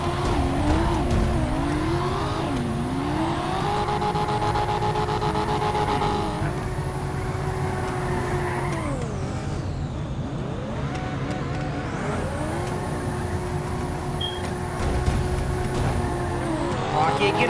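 A 2024 Ford Mustang GT spins its tires in the pits of a GTA FiveM game, its engine revving in long rising and falling sweeps, loud and steady throughout, with voices occasionally talking over it.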